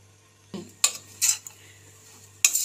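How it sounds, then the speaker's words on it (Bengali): A spoon scrapes and clinks against a bowl while mixing grated radish with salt, turmeric and Kashmiri red chilli powder: a few sharp, separate metallic taps and scrapes, close and clear, with no voice. "খুব ভালোভাবে চামচ করে একটু মিশিয়ে নেব।"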